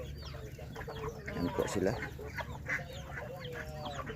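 Large farm ducks kept after a typhoon, with soft repeated clucking and quacking calls from several birds nearby, while a person speaks briefly over them.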